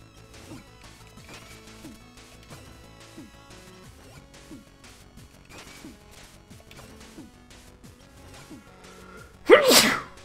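A single sharp, loud human sneeze bursts out near the end, close to the microphone, cutting over quiet game music and sound effects from The Messenger that play throughout.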